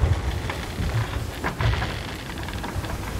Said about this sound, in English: It's a storm.